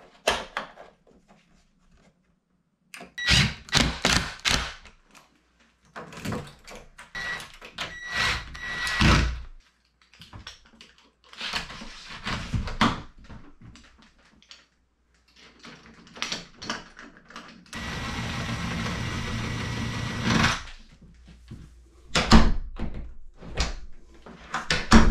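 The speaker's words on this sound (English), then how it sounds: "let's just put this doorknob on and we'll have a complete door" A doorknob is fitted to a new door during a small bathroom remodel, with bursts of clicking, rattling latch and knob handling, knocks and a brief whirring tool across the stretch.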